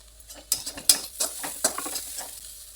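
Crumbled jowar bhakri tossed in a pan with red chili powder, salt, curry leaves and coriander, giving soft stirring scrapes and light sizzle with a few sharper clinks of the spoon against the pan, close and fairly quiet.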